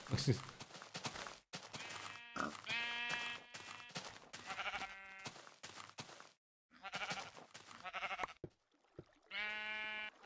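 Sheep bleat repeatedly in the Minecraft video game, a series of short nasal harmonic calls spaced across the span with brief quiet gaps and faint blocky footstep-like thuds between them.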